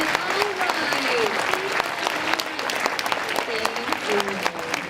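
Audience applause after a fourth-grade school chorus concert, steady dense clapping sustained throughout with some voices mixed in.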